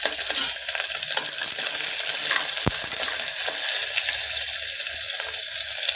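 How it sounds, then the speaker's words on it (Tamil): Chopped onions with mustard seeds and curry leaves sizzle steadily in hot oil for a brinjal gravy, a continuous frying hiss with a light stir and one sharp pop or clink partway through. "கொஞ்சம் வெங்காயம் ப்ரௌன் கலரில் வர மாதிரி நம்ம ஃப்ரை பண்ணிக்கலாம்."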